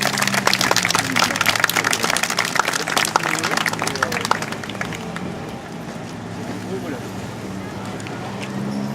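Crowd applause at an outdoor blessing of a calvary cross in Croix-du-Bac, loud dense clapping that thins out halfway through while voices and background noise continue.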